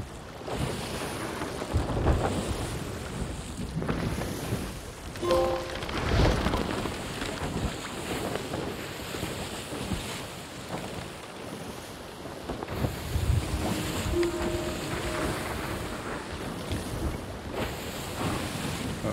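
Wooden sailing ship cutting through open ocean waves in Sea of Thieves, a steady wash of surf and wind rushing past the deck with occasional creaks and splashes, continuous and fairly close.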